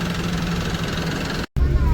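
A repaired vehicle's engine runs steadily at idle, a continuous low rumble that is loud and close, broken by a brief dropout before it resumes just as strongly.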